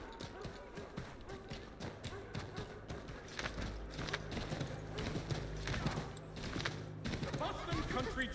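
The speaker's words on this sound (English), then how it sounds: "I don't know if this was specifically my horse, but it's a horse." Rhythmic horse hooves clop steadily on a hard surface in the video game Assassin's Creed III Remastered, close by, with faint talk in the background.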